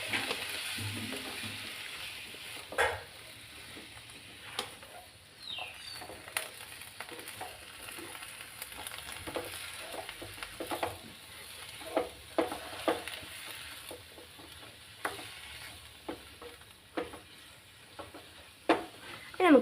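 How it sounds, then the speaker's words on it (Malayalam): Long beans frying with onions in a pan are stirred with a utensil, a soft steady sizzle broken by scraping knocks and clatters at irregular intervals, close by and moderately quiet. "നമുക്ക് ഫുള്ളൊന്ന് ഇളക്കി യോജിപ്പിക്കാവേ."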